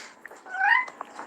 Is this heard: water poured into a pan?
no